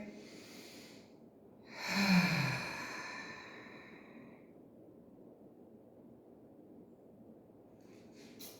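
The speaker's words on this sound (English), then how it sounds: "Take a deep breath." During a guided relaxation session, a person takes one deep breath and lets it out in a long, airy sigh that fades, with near silence before and after.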